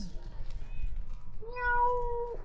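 A cat on Mount Apo gives a drawn-out meow near the end, after a couple of fainter, shorter calls, over a low outdoor rumble.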